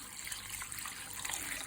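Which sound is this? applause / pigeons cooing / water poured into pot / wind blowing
water poured into pot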